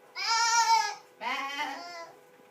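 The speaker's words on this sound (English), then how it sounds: "The men take the sheep to their ship." Sheep bleating as men drive the flock to their ship, two long wavering calls close by with a short pause between, loud and clear with no talk over them.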